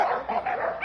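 Dogs at a conformation show for ADBA dogs, barking and yipping close by in a short, continuous burst, with a busy indoor crowd ambience beneath.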